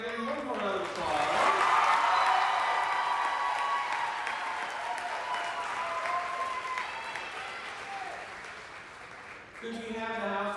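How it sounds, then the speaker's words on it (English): An auditorium audience claps for a group of Teachers of the Year at an awards ceremony, a sustained dense round of applause that swells early, holds steady and fades near the end as a voice starts to speak. "Can I give you one more round of applause?"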